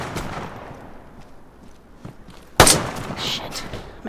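A single loud gunshot cracks out in the survival game DayZ, close and sharp after a stretch of quiet ambient noise, then rings out in a brief tail.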